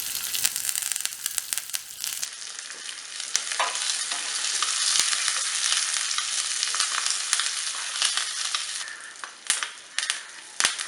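Fenugreek, mustard seeds, shallots, dried red chilies and curry leaves frying in hot oil, a continuous loud sizzle with stirring scrapes and occasional sharp clicks of a spoon against the pan.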